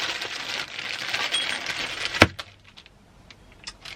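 A set of three metal keys jangles and clinks, a bright scattered rattle that ends in one sharp clink, then a few faint taps.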